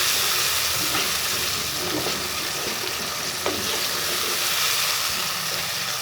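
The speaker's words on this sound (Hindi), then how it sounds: "इसको हम अच्छे से मिक्स करते हैं।" Sliced potatoes sizzle loudly in hot oil in a pan while being stirred for masala aloo katli, a continuous steady frying hiss with a few soft scraping strokes, close and without voices.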